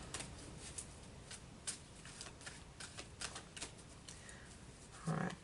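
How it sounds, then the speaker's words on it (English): Archangel oracle cards are shuffled by hand in a steady stream of soft riffling clicks and slaps, close and fairly quiet, with a brief louder thump near the end. "I'm going to pull a few Archangel cards"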